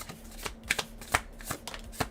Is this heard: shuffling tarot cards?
yes